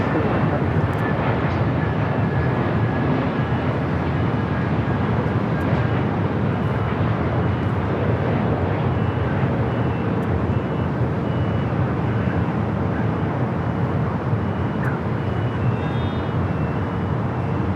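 An airliner takes off from runway 24 right at Los Angeles International Airport, a loud, steady jet roar that holds unbroken for the whole stretch with no voices over it.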